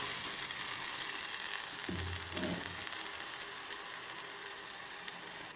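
Food frying in heated oil in a kadai gives a continuous loud sizzle and crackle, close by, with a brief low thud partway through and no talking.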